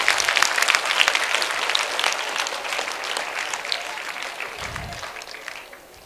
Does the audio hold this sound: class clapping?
yes